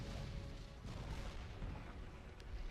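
Dense, continuous booming rumble of explosions in LEGO Star Wars: The Complete Saga, a steady loud wash of blasts and crackle with no clear gaps or talk.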